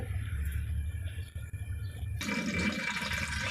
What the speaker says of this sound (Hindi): सबसे पहले कुकिंग पॉट में आधे कप से थोड़ा सा कम मैंने ऑयल डाल दिया।